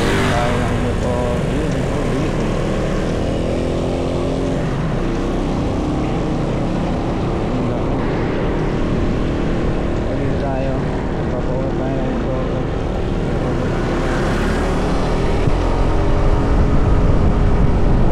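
A Husky ADV 150 motorcycle accelerates at speed on the road, with a loud, steady engine and wind roar that holds throughout and swells slightly toward the end.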